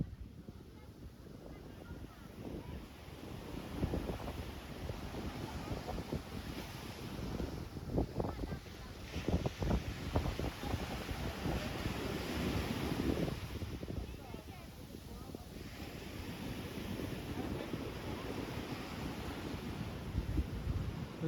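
Strong wind on Chaweng Beach, Koh Samui, Thailand, buffets the microphone in a constant, rough roar, with surf washing in underneath and faint voices nearby.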